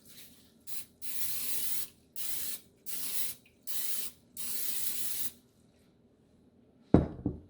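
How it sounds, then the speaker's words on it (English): Nonstick cooking spray sprayed into a bowl for dinner rolls: six short hissing bursts in quick succession, the last one longer, followed by quiet and then a single sharp clatter near the end. "I'm going to coat the bowl with some nonstick spray"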